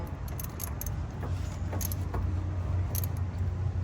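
A 10mm bolt is tightened on the steering column of a Ford Edge or Lincoln MKX, giving close, quick metallic clicks and jingling over a steady low hum, with no one talking.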